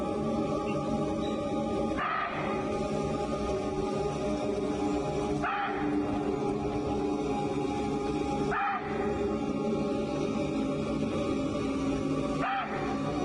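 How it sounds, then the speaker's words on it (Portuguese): Chital deer give four sharp alarm barks a few seconds apart, a tiger likely nearby, each call rising over a steady dense wash of wild forest background. "Um chital a latir solta um grito de alerta urgente."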